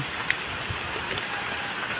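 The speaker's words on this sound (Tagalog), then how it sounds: "Magdamag na naman pong umulan ng umulan." Steady rain falls during a storm in the Philippines, an even wash of drops with no clear break, close and moderately loud, alone without voices.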